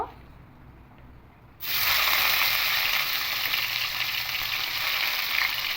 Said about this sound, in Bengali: তেলের মধ্যে পেঁয়াজ দেব